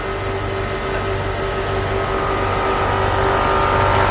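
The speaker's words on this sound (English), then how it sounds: "I can hear the air suspension pump running." A Mercedes GL450 with faulty air suspension runs its air suspension pump, a steady close mechanical hum and whine with a constant tone that holds evenly throughout and grows slightly louder toward the end.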